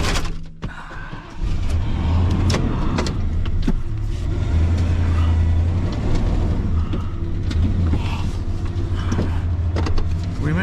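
An old truck with bald tires and non-working four-wheel drive labours up a rough dirt road, its engine a loud continuous low drone with cabin rattles and bumps over about ten seconds, no talking.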